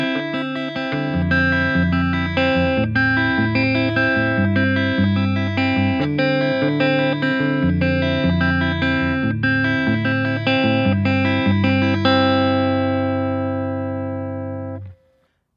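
Guitar playing a melody together with bass notes on the low strings, clean picked notes with effects in a steady rhythm, ringing out and fading at the end.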